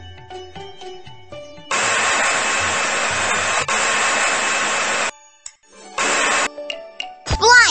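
A magic hair dryer in a Shimmer and Shine genie palace dress-up video game blows in a loud steady whir for about three seconds, then a shorter burst, set among chimes and sparkly game effects.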